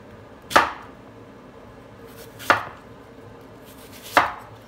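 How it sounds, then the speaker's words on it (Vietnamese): An apple is diced with a knife on a cutting board, giving three sharp, close chops spaced about two seconds apart over a quiet background. "Táo cũng xắt hạt lựu nha"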